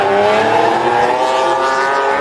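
A drift car at a Polish drifting championship round at Bemowo roars at high revs with tires squealing, a loud, sustained engine howl heard close and continuous.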